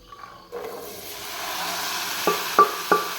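Boiled chickpeas go into a hot pan and sizzle with a soft steady hiss, followed by three sharp scraping knocks as a spoon stirs them in a home kitchen.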